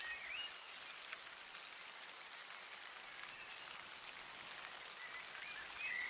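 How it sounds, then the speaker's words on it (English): Dense, steady hiss of falling rain, soft and continuous, with faint high chirps in the background at the start and end. "and the rain washed over me."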